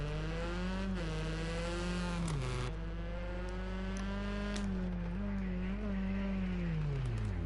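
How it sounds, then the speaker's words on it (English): A rally car engine in the video game Rally Fighters revs steadily, its droning tone rising and dipping through gear changes and throttle lifts for several seconds, heard alone under a sustained hum. "You can hear him revving that car."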